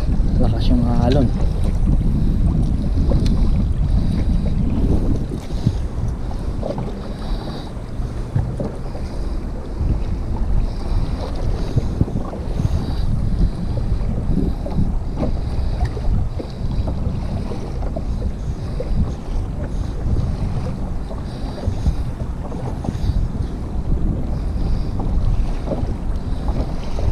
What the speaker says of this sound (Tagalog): Medyo lakas yung mga alon.